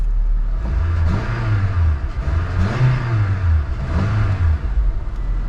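A Honda Civic del Sol engine revs three times in succession, each rise and fall of the engine note loud and close, with no talk.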